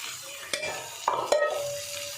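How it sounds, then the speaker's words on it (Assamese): Pumpkin and potato pieces hitting a pan of frying chicken, a few sharp clatters and a burst of sizzle over a quiet background, with no voices. "এতিয়া মই এড কৰি দিম কোমোৰা আৰু আলুখিনি"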